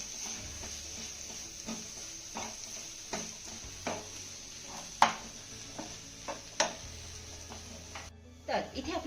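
Chopped coriander is stirred into a sautéed potato mixture in a pan, with faint sizzling under repeated soft scrapes and taps of a spoon against the pan.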